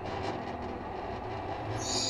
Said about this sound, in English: I'm riding. Ride the tram.